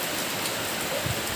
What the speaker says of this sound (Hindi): तेज बारिश और बारिश में बच्चों का स्नान